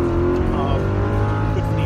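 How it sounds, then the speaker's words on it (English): A car engine warms up at idle with a steady, low, continuous rumble that stays close and fairly loud throughout, while a person talks over it. "I just like to warm the car before I go to work."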